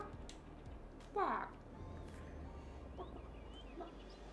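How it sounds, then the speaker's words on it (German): A chicken clucks in the Farming Simulator 22 video game, a short burst of fowl calls heard once mid-clip over steady background game noise and music. "Ich höre ein Huhn, ich sehe es aber nicht."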